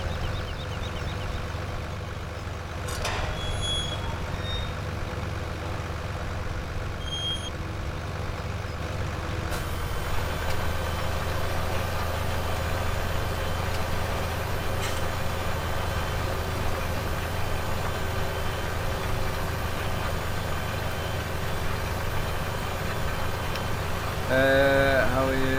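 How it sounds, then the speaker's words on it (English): A tractor engine in Farming Simulator 17 runs with a low, steady rumble, continuous and moderately loud, with a few faint clicks over the drone. "I like this tractor though."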